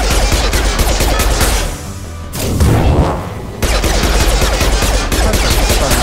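Sustained gunfire from a firefight in the video game Mass Effect 2 crackles loudly and continuously, with dense rapid shots that briefly thin out, then resume at full intensity.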